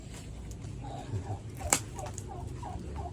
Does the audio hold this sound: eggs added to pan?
no